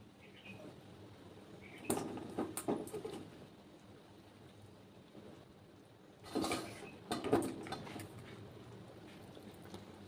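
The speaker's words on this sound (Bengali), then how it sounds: "মাছের ঝোলটা ফুটছে এবার মাছগুলো ভেজে তুলেছি এক এক করে ছেড়ে দেবো" Fried fish pieces dropped one at a time into a simmering ridge gourd fish curry, giving two short splashing, sizzling bursts a few seconds apart over a quiet kitchen background.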